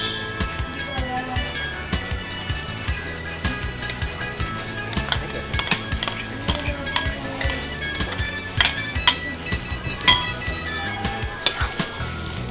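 Cooked rice and stir-fried vegetables are tossed in a pan, with a utensil clinking and scraping against the metal in a busy, continuous rhythm and soft music underneath.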